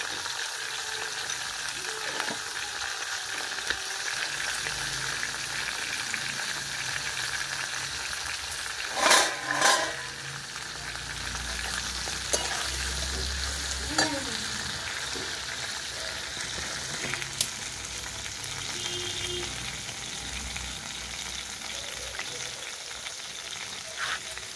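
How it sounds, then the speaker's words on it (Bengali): Cauliflower pieces with a little salt and turmeric frying in oil in a pan, a continuous soft sizzle with occasional stirring and clatter, close and steady throughout. "ফুলকপি ভাজা হচ্ছে।"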